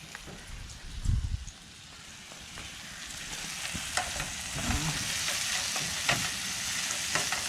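Tomato curry bubbling and sizzling in a pan at an outdoor camp spot beside backwaters, with a steady frying hiss, occasional stirring scrapes and a few thumps near the start, close and alone.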